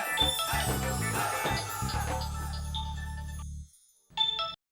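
A phone ringtone plays as a melodic electronic jingle with steady repeating tones, fairly loud and alone for a few seconds, then stops briefly before a short burst resumes.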